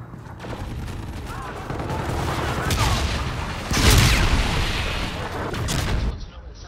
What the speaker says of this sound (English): Enemy Trinity rocket in use.